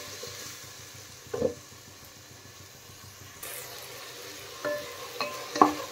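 Chopped onion, green chilli and tomato sizzling softly in a pan, with a few sharp scrapes and clinks of a spoon stirring the mixture.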